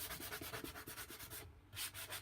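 A sanding block rubbed back and forth over a henna-decorated pumpkin cutout, making steady rhythmic scratchy strokes close up, with a brief pause before the rasping resumes.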